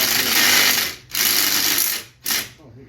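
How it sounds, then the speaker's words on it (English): A cordless power drill whirs in a workshop garage, running in three steady bursts of roughly a second each with short pauses between, loud and close with no talk over it. "Let me run the drill back up here."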